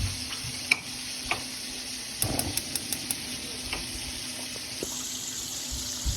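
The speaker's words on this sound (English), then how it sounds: "And I'm going to go ahead and add my green beans and fry these up." Green beans fry in vegetable oil in a frying pan with a steady, soft sizzle, broken by a few sharp clicks and taps from stirring, close by and with no talking.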